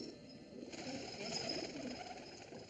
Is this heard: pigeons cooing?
yes